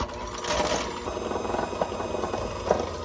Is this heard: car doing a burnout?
no